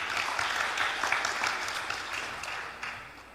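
An audience claps for team A at a quiz competition final, a dense, fairly soft patter of applause that holds steady and then fades slightly at the end.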